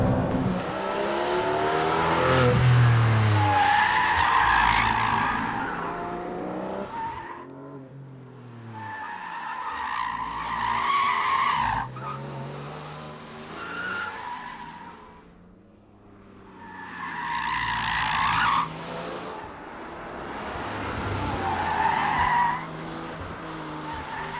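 A Porsche 718 GTS 4.0 with a six-cylinder engine laps a race track, its engine rising and falling through repeated gear changes. The revs sweep up loudly, drop away, then climb again, with some tire noise through the corners.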